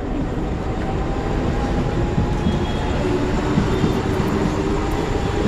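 A Mumbai local train at Charni Road station, a loud continuous rumble and rolling roar of wheels on rails with a faint metallic clatter, sustained and close throughout.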